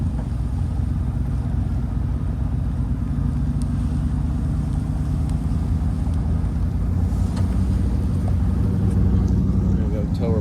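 A Dodge truck engine idles with a steady low rumble, close and continuous throughout, while someone talks over it.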